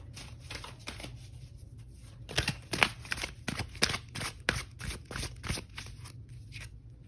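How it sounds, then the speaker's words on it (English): Oracle cards being shuffled by hand, a series of soft riffling bursts and card slaps in an irregular rhythm, close and fairly quiet, with no talking. "I do want to pull an oracle card here."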